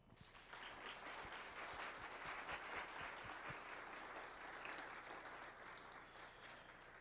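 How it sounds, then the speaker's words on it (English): Sustained, dense applause from a panel audience welcoming Dr. Barbara Hill to an Innovation in Global Engagement session, steady and fairly loud for several seconds with no speech over it. "Let's give her an applause."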